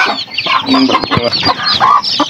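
Darag native chickens in a backyard, a close, busy flock clucking and chattering continuously with overlapping calls, loud and near.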